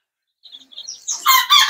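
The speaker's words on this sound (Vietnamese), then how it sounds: "là bầy gà" Three-week-old chicks chirp in a brooder pen, a few faint peeps first, then a dense burst of shrill, overlapping cheeping close by.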